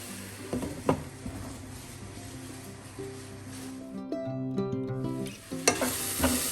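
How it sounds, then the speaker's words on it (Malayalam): Violet cabbage thoran cooks in a pan on a low flame. Scraping stirs and a soft sizzle come first, followed by metallic ringing clinks of a utensil or lid, then more stirring up close, with no talking. "എല്ലാം തട്ടിപ്പൊത്തി ഒരു 5 മിനിറ്റ് നേരം അടച്ചു വെച്ച് വേവിക്കാം."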